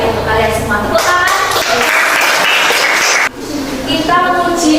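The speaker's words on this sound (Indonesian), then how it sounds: "Ya, tetap kita memberikan apresiasi baik untuk kalian semua. Tepuk tangan." A classroom claps in appreciation, brisk clapping from a group of students that rises and then briefly dips before resuming, mixed with some voices.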